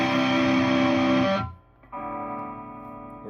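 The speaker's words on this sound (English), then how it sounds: "one of the key things about the pedal is the mid control, and the circuit comes before the distortion." Electric guitar through a JHS Violet overdrive pedal with the mid control cranked, a loud sustained distorted chord that cuts off briefly and is struck again, ringing on.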